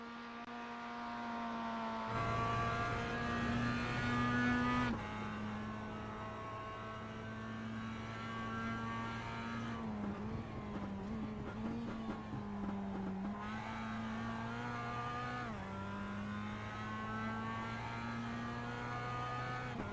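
An old Mazda MX-5 Miata race car laps Sebring Raceway, its engine a clear, sustained buzzing whine that rises and drops through several gear changes and revs, heard alone without commentary.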